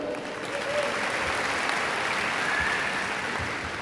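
A large crowd at a high school graduation ceremony claps continuously, a broad, even roar of applause that stays loud and steady from start to finish.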